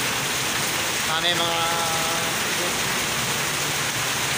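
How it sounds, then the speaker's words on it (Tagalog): Heavy rain pours down outside on a road in Tagaytay during a thunderstorm, a steady dense hiss throughout, with a voice speaking briefly over it. "lakas ang ulan guys"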